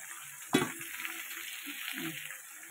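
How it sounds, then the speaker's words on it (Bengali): Mixed vegetables and green banana being fried in a pan give off a soft, steady sizzle, broken early by one sharper clack of a utensil, with no speech. "এই যে সব সবজিগুলো দিয়ে একটু ভালো করে আগে ভেজে নেব"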